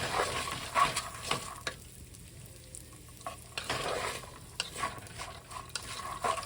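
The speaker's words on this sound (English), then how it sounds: "Use a wooden spoon to stir everything." A wooden spoon stirs khichri in a hot pot, scraping and knocking while it sizzles gently in the background. The strokes come irregularly, close by and at moderate volume, with a brief quieter stretch partway through.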